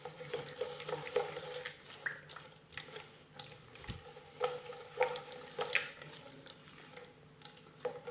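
Ghriba cookie dough, with sugar and a pinch of salt added, is worked by hand in a bowl, giving a steady run of soft, sticky squelching and stirring rubs with small clicks throughout.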